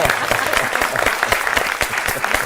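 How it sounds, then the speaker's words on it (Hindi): Audience applause at a speech event, dense rapid clapping from a crowd, loud and sustained through the whole moment. "एक बार फिर ताली बजा दीजिए, अच्छा लगेगा।"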